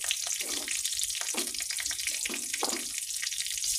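Fish with curry leaves and green chilli sautéing in a pan, a steady close sizzle with bursts of stirring and scraping running through the whole stretch.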